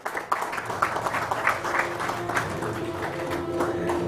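Audience at an award ceremony applauding, a dense burst of many hands clapping that rises sharply and holds steady through the clip, with faint voices underneath.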